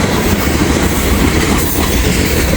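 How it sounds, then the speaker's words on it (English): A loaded ethanol freight train rolls past close by, its steady, dense rumble and wheel clatter running continuously without a horn. "we got a loaded ethanol train here"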